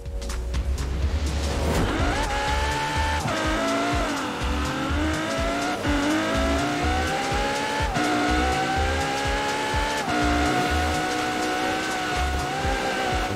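Engine roar and repeated tire squeal from a Lego Ferrari F40 driven at night in the racing game Forza Horizon 4, loud and continuous, with revs climbing and dropping through gear shifts.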